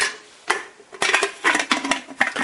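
A metal lid goes onto a pressure cooker holding chicken stock, with a handful of close, sharp clanks and scrapes of metal on metal spread unevenly over a couple of seconds.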